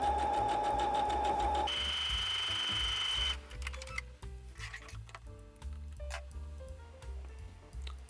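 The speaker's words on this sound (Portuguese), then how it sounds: "nossa Singer Heavy Duty 6805 para fazer aquele ponto lindo." Singer Heavy Duty 6805 sewing machine running at steady speed, a continuous rhythmic whir with a high motor whine, then stopping and starting in shorter bursts with clicks, close and fairly loud, without talk.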